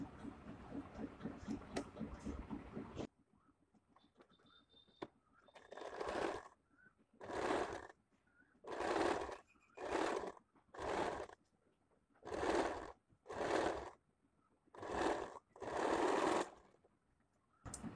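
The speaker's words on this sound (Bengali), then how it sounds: "পেছনের পার্ট নরমাল যেভাবে কুর্তিতে হয় সেম ভাবে সেলাই করে নেব" Sewing machine stitching the back panel of a square-neck A-line nighty, running in about ten separate loud bursts of a few seconds each, split by short pauses, after a few seconds of other noise.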